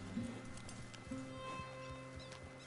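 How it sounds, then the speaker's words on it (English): Horse hooves clip-clop on a PlayStation video game range, a steady rhythmic trot of soft, close hoofbeats heard over a faint game background, with no talking. "I like this horse."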